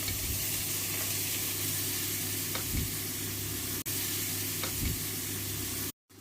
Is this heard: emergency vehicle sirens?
no